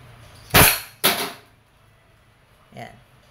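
A Wingun 708 airsoft revolver fires twice in single action, two sharp loud snaps about half a second apart, followed by a fainter click.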